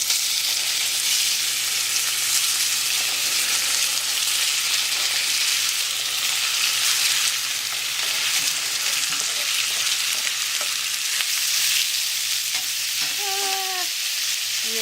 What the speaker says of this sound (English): You're gonna sear these babies up.